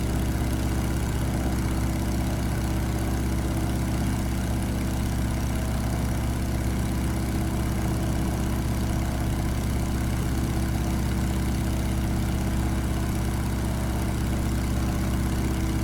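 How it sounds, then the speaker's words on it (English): A Stearman PT-17 biplane's engine drones steadily in flight, a loud, unbroken low rumble that holds constant throughout with no talk over it. "Get your best performance anytime you can out of the plane."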